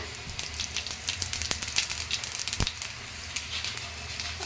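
Cumin and mustard seeds crackle and pop in hot oil in a kadai as a tempering for a chicken gongura curry, with dense, steady close-up sizzling and scattered sharp pops, and no talk.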